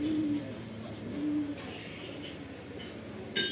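Madrasi breeder pigeons coo in low, repeated throaty calls, close by and moderately loud, with faint background rustling.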